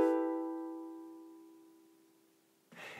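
A ukulele plays the intro of a song, one plucked chord ringing out and slowly decaying, close and alone, with a brief rustle at the end.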